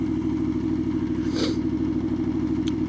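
A motorcycle engine runs steadily while riding, a continuous loud low rumble with dense throbbing firing pulses, near and constant with a faint rush of wind noise over it.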